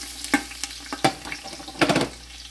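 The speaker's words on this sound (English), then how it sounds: "So now I will just dump this onions, garlic, and ginger all together wonderfully" Onions, garlic and ginger dropped together into a hot pot and sizzling, heard as a few sharp clattering bursts over a low, steady fry, close by and fairly loud.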